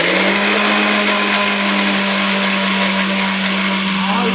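A mixer grinder purées banana into paste with a loud, steady electric motor whine and a constant hum that runs unbroken from start to finish.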